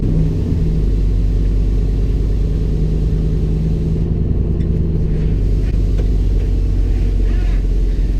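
A restored and modified ICON Ford Bronco drives along, its engine a loud, steady low rumble with road and wind noise picked up by a GoPro mic, holding roughly constant throughout.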